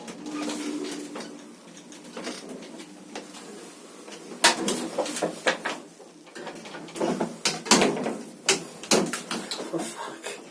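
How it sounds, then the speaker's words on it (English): Inner doors of an old lift in a Bratislava, Slovakia building being pulled shut by hand, a run of sharp metallic clacks and rattles with a person speaking nearby. "They've got inner doors which you have to close by hand"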